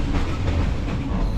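A TAZARA passenger train rolls along the rails between Tanzania and the border, a steady, dense rumble of wheels and rattling carriage heard from inside, loud and continuous.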